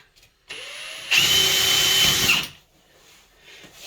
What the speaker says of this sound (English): I got a 1/8 inch drill bit. We're going to drill right through the shower